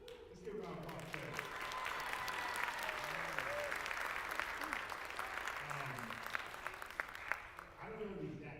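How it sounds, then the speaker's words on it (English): An audience claps in a round of applause at a Martin Luther King Jr. Day event, a fairly quiet, even patter of hands in a room while voices talk over it. "Let's give a round of applause, Kevin."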